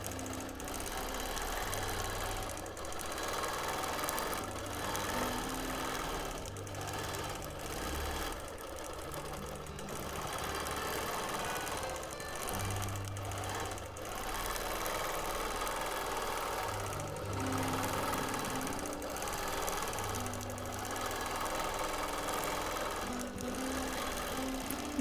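A sewing machine stitching free motion quilting in a mod boxes pattern, running in a steady, continuous close-up whir with slight speed changes and no talking.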